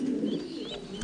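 Pigeons at a breeding farm give a soft, low cooing with a faint chirp, close but quiet, in one short burst.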